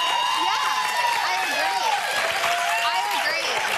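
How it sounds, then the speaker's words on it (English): Studio audience applause during a talk show, steady dense clapping with some crowd noise throughout. "I should clap with everyone"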